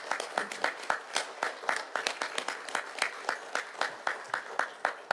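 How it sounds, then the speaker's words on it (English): Scattered applause in a city council chamber for first responders, a modest group clapping in a steady, uneven rhythm at moderate distance, sharp individual claps clearly separable throughout. "I want to give you a round of applause for your job"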